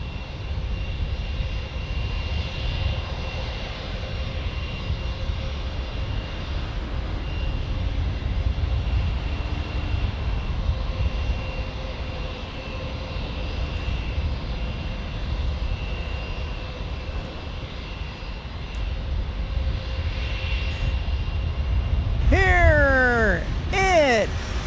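A KLM airliner on approach to San Diego airport, a low, steady roar of aircraft engines building gradually, with a bird chirping near the end.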